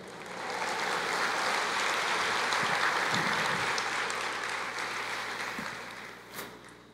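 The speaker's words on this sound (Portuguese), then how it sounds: "aplauda o Senhor" A church congregation applauds at a sermon on the Apocalypse, a dense sustained wash of clapping that swells and holds for several seconds before tapering off, with no voices over it.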